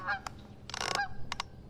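Geese honk beside a river at a campsite, several loud calls in quick bursts with short gaps between them, close by and alone with no talk.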